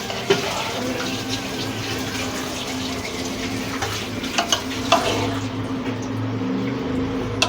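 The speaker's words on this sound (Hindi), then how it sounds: "अब इसे हम चलाते हैं। ये हमारी टिक्का बिरयानी है।" Grilled chicken tikka biryani stirred in a pot after resting on dum, with soft scraping and clinking of a spoon against the pot and wet rice shuffling at close range, no talking.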